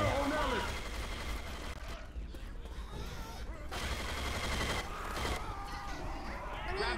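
Rapid video game gunfire in Left 4 Dead 2, aimed at a charging Charger, rattling in bursts under frantic shouting from players throughout.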